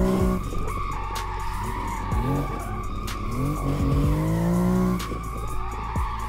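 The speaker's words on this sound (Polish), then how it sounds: "auto brzmi po prostu przecudnie nawet z wnętrza" A BMW M2 drifts at a drift park in the video game Assetto Corsa, with a continuous engine roar rising and falling through gear changes and repeated sustained tire squeals, close and loud throughout.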